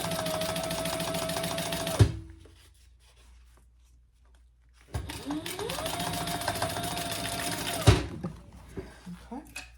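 A sewing machine stitches sticky black vinyl for a foldover crossbody bag, running in two steady whirring bursts of about two and three seconds, each ending in a sharp clunk, with a quiet pause between.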